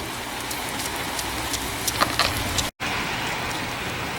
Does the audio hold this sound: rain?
yes